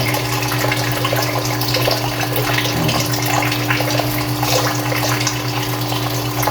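Water pours steadily into a catfish-rearing drum, a continuous rushing splash with a low motor hum underneath, close and constant throughout.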